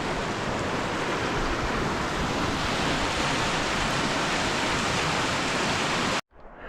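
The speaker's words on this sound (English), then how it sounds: "North Fork of the Feather River. Going over the bridge." The North Fork Feather River rushes below a bridge in a dense, loud, continuous roar of water that cuts off abruptly near the end.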